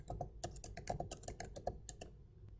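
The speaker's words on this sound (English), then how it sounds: "as I'm typing in the counts" Rapid, irregular typing on a computer keyboard while entering counts into statistics software, close and fairly quiet, a steady patter of keystrokes with no talking.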